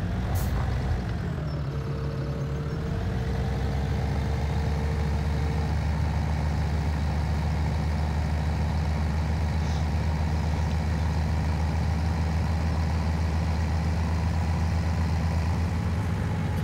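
A tractor engine idles steadily in Farming Simulator 2017, a low continuous drone with a brief hiss and pitch shift early on, no voices.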